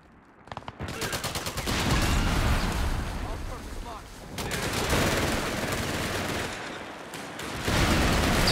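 MP40 submachine guns fire on German Grenadiers during a Company of Heroes 3 1v1 battle: dense, sustained gunfire with booming explosions mixed in, loud and nearly continuous across the whole stretch.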